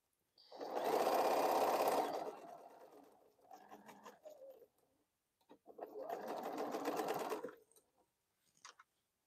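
A sewing machine backstitches on quilted fabric bowl cozies in two close, steady whirring bursts, each about two seconds long, separated by softer clicks and handling sounds.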